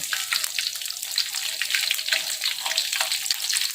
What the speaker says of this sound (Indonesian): Ini menggunakan minyak sayur, kita menggoreng tahu dan tempe tadi ya.